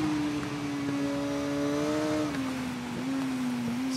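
Motorcycle engine in the TT Isle of Man racing game, a steady whining tone that holds, then drops in pitch around the middle as the revs dip under braking, with continuous road and wind noise beneath.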